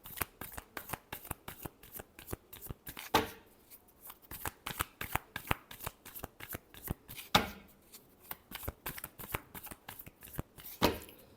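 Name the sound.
shuffling tarot cards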